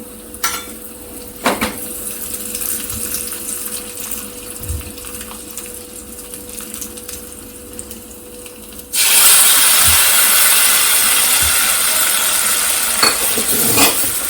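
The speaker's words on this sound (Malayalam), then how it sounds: "ഞാൻ കാഷ്യൂനട്ടാണ് മൂപ്പിക്കുന്നത്. കുറച്ച് റേസിൻസും കൂടി ഇടുകയാണ്." Cashew nuts and raisins frying in a pan for a Kerala nendran banana sweet dish, with a low sizzle and occasional utensil clinks that turn into a louder, bright hiss partway through. No one speaks.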